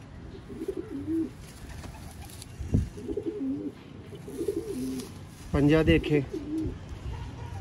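Sialkoti pigeons coo in repeated low, throaty phrases close by, with someone talking over and between the calls and one louder burst of cooing near the end.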